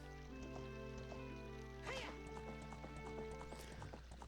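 A horse clip-clops in The Legend of Zelda: Ocarina of Time, with faint, steady hoofbeats under tonal game music and a brief whinny-like swell midway, all at low volume.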